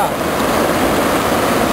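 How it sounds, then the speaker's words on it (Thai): Clear cold water of a forest waterfall spills down toward a cliff edge, a steady loud rushing roar with no pauses, heard close. "น้ำตกก็จะไหลลงมานะครับสู่ด้านล่าง"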